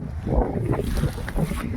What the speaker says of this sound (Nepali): हावा यस्तो लागिरहेको छ